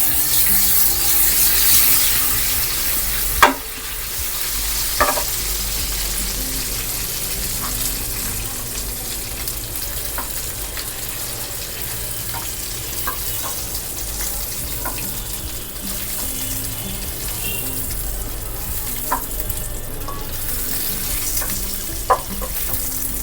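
Beef meatballs frying in a pan for spaghetti and meatballs, a dense continuous sizzle with a few sharp clicks and taps of a utensil against the pan, close and fairly loud, with no voices.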